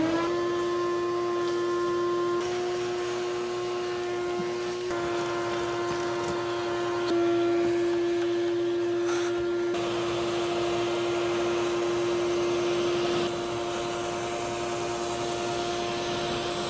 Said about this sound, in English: we're gonna vacuum this shit out.